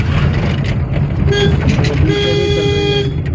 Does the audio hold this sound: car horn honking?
yes